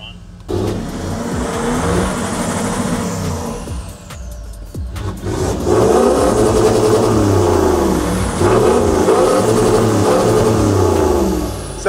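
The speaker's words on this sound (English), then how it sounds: "Spinning the wheels helped move some of the mud out of the way" A Toyota LandCruiser stuck in creek mud revs hard as its wheels spin, the engine roaring loudly and steadily with churning, surging effort; people talk over it.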